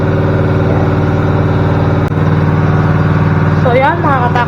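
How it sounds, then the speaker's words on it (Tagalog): A noisy irrigation water pump engine drones steadily and loudly close by, its low rhythmic chug holding even throughout, with a voice briefly rising over it near the end. "Maingay ngay makina gawa ng magpapatubig."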